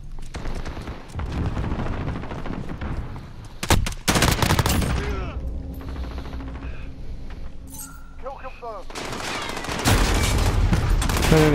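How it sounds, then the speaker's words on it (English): Call of Duty gunfire rattles in rapid bursts, loud automatic fire with sharp booming shots and explosions, broken by a short lull before heavy shooting resumes. "I put 100 bullets into him."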